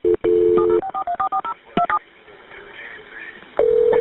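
Telephone keypad tones beep in a quick sequence of short dialing presses while a call to an ambulance service connects, followed by a quiet stretch and then a steady ringing tone.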